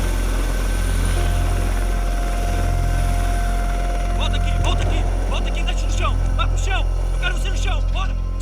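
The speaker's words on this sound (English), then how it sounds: "the unit uses federal police helicopters" Steady low rotor drone of a federal police helicopter overhead in South America, with chirping birds and voices faintly audible on top.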